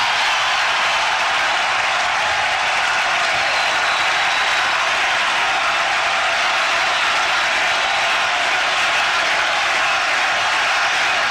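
Large golf crowd around a green roaring and cheering in a continuous broadband wash of noise, steady and loud throughout with no distinct chant standing out.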